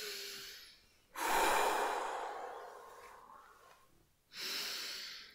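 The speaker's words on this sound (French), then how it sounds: "Vous inspirez, vous expirez volontairement, plusieurs fois profondément" Slow, deep voluntary breaths taken during a guided sophrology relaxation session, one long loud inhale-exhale followed by a pause and the start of another breath, close and unaccompanied by speech.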